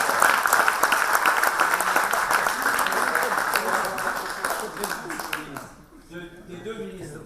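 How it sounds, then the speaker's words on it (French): Loud, dense applause fills a hall at an inaugural conference as the president of the Senegalese pediatrics society is honored, then the clapping fades out and voices are heard talking. "Vous l'applaudissez très fort."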